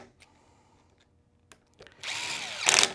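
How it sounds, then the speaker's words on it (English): A power driver tightens steel screws into an aluminum hub for a Losi Promoto-MX RC motorcycle, a short high whir near the end after a few quiet clicks of handling. "we're gonna cross tighten these screws"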